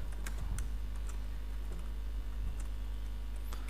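Typing on a computer keyboard, close and quick with irregular clicking keystrokes over a steady low background hum, and no talking.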